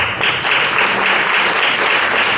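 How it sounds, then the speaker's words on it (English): Loud, close applause from a debate audience fills the whole moment, a dense steady wash of clapping with no pauses. "Please refrain from applauding during speeches."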